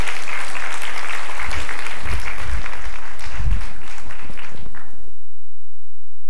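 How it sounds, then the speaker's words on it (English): A conference audience applauds loudly with dense, steady clapping that carries on for about five seconds, then cuts off abruptly into silence. "give a big round of applause for the daring woman"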